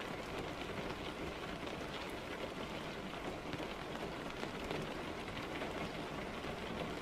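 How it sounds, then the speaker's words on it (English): Rain in the truck-driving game Euro Truck Simulator 2, a dense, even hiss of falling drops pattering steadily without pause, moderately loud and heard alone with no voices. "It's just the rain."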